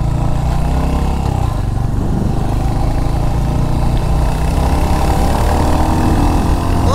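A Royal Enfield Hunter 350 motorcycle engine while riding, a loud, close, continuous low thumping rumble with a steady beat that holds throughout without a break, and no talking over it.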